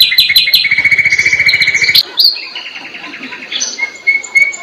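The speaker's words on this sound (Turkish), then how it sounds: "Akşam akşam bu kuşlar nereden geldi ya?" Birds chirp loudly and close by in the evening at a town square, with rapid trilling bursts followed by sharp tweets and whistled calls, clear with little else in the background.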